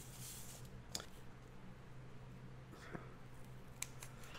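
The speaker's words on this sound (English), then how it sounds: "I just cut this and make it just into different parts" Scissors snip foam shoe-cover pattern pieces apart in a quiet room, giving a few sparse, crisp cuts spaced about a second apart with soft handling noise between them.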